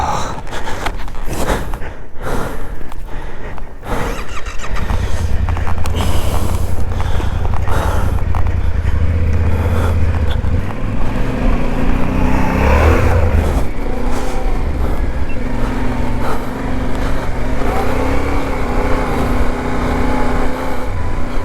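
Loaded adventure motorcycle struggling through deep sand in Mexico, its engine revving and labouring unevenly alongside clatter and mechanical creaks, with brief breaths or gasps heard near the start.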